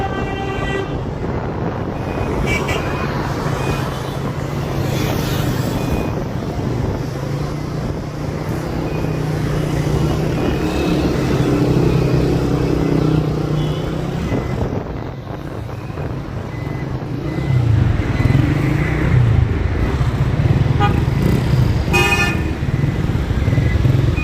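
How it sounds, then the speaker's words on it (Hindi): Busy street traffic in Rawalpindi's Sadar Bazar: a steady loud roar of cars and motorcycles with repeated car horn toots throughout, close and continuous. "रश बहुत ज़्यादा है ना, इधर ट्रैफिक है"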